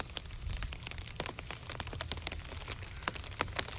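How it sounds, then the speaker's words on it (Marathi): Heavy rain falls outside, a constant soft wash of noise scattered with sharp clicks of individual drops striking a surface, fairly quiet and steady. "बाहेर पाऊस खूप जोरात आहे"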